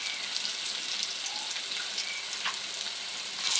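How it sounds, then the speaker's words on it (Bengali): Vegetables sauté with turmeric in a pan, giving a soft, steady high sizzle with light stirring taps, close but fairly quiet, with a slightly louder clatter at the very end. "আমার সবজিগুলোকে খুব ভালো করে কষানো হয়ে গেছে।"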